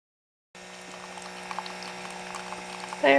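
A Keurig Mini coffee maker begins brewing a K-cup: silence, then a steady pump hum with faint gurgling that swells near the end, close by and with no speech.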